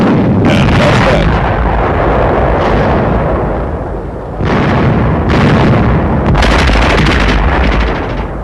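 Loud, sustained roar of explosions and gunfire as incendiaries strike an enemy supply shack in snowy Arctic combat, with heavy booms and rumbling bursts that briefly dip before resuming at full force.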